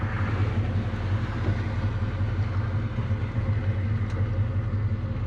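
A Chevrolet Chevelle engine rumbles steadily at low revs while driving gently on a cold road, a continuous deep drone heard from inside the car.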